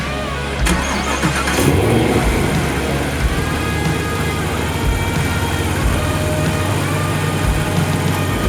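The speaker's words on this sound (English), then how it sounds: "here we got a 2020 Camaro ZL1 LT4 power" A 2020 Chevrolet Camaro ZL1 with the LT4 engine starts and settles into a steady, loud, deep running rumble that holds throughout, close by, with no voices.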